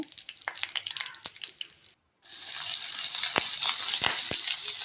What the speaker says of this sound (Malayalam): നല്ല കളറൊക്കെ മാറി വരുന്നത് വരെ അത് ഇളക്കി കൊടുക്കുക.